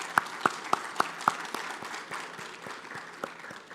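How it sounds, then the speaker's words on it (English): Scattered applause from a conference audience at an African business summit, starting with a few sharp, distinct hand claps near the microphone and thinning into softer, sparser clapping across the room. "Please, a round of applause."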